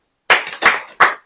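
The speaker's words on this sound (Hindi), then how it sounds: "अब ताली बजाओ" Three sharp bursts of audience clapping on cue at a religious sermon, each short and crisp with a quick decay, loud and close, no talking over them.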